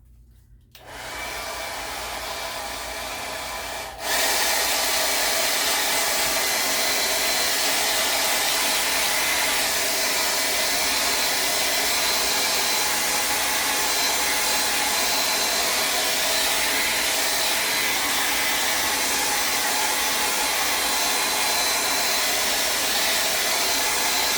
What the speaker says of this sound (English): I'm going to dry it just a little so that I know it's dry.